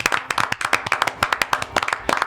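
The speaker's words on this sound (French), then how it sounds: "un tonnerre d'applaudissements pour notre vedette de ce soir" Studio audience clapping for a singer on an evening show, sharp close hand claps in a quick irregular rhythm, loud and distinct, no talk over them.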